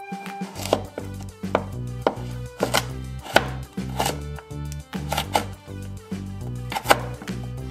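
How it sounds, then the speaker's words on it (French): A knife slices half a vegetable into pieces on a cutting board, ready for a vegetarian Japanese fried rice. About a dozen sharp, evenly spaced chops land close and loud, with no talking. "on va couper d'abord la moitié. Et je vais couper en tranches"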